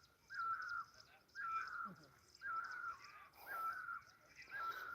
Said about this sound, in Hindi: परिंदा है कोई पता नहीं, ये सावन के महीने में वैसे ही बहुत बोलता है